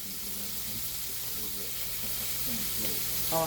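Stir-fried ramen noodles with shrimp and vegetables sizzle steadily in a hot pan, a constant close crackling hiss with brief stirring scrapes, while someone talks over it.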